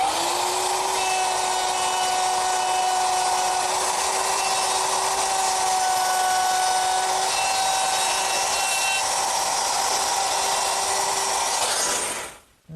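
A handheld router fitted with a guide collar riding inside a template notch cuts a hinge mortise in wood for a Shaker woodbox, giving a loud, steady high whine that runs unbroken for about twelve seconds before winding down at the end.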